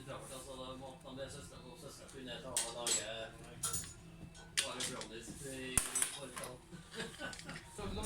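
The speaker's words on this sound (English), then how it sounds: "most of what I'm doing now is just to loosen and disassembling bolts and some grease nipples" Metal tools clinking and scraping against bolts and grease nipples while loosening the front suspension of a BMW Isetta, irregular clanks and ratchety taps close up, with someone talking over much of it.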